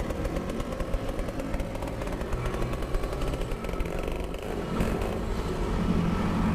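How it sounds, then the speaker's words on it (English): In Farming Simulator 22, a vehicle engine starts and settles into a rough, buzzing two-stroke-like idle with a rapid pulsing chatter that runs steadily and fairly loud throughout. "that sounds a lot like a two-stroke engine starting on a chainsaw"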